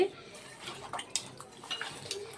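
Small fish being washed by hand-mixing them in water in a bowl, soft sloshing with light clinks and scrapes against the bowl, quiet and close with no talking.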